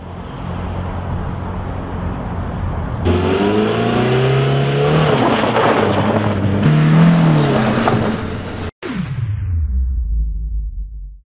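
A 2001 Audi S3 accelerates hard, and its engine climbs loudly through several rising revs with shifts in between. After a sudden cut the engine returns and fades as the car pulls away.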